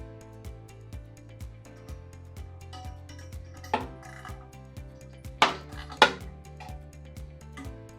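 Light metallic tool clicks and taps while loosening a set screw on a blower motor during replacement, a run of small regular ticks with a few sharper, louder clanks near the end, close and fairly faint.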